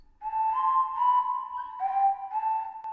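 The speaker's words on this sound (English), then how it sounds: "I put it on a whistle sound as a sort of little motif" A synthesized whistle plays a short, smooth melodic motif of a few sliding notes, clear and steady with no voices.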